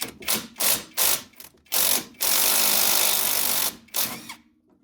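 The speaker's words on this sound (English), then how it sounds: "I'm gonna hit it with the impact and we'll get this off" Impact wrench with a 17mm socket spinning off a sway bar link nut on a Jeep lift kit install: several short rattling bursts, then one long sustained hammering run and a final short burst, loud and close.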